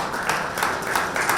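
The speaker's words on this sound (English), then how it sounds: "Can we start off by giving all of us a warm round of applause for being here today?" An audience at an IAA awards and talk event on gender portrayal in advertising gives a warm round of applause, a dense continuous patter of many hands clapping that stays steady and fairly loud throughout.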